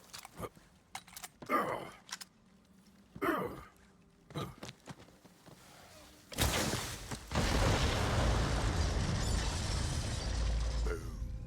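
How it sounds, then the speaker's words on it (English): After some scattered short sounds and breaths, set bombs in the video game Borderlands 3 go off with a sudden loud blast that rolls into a sustained, noisy rumble lasting several seconds. "The explosion echoed through the forest"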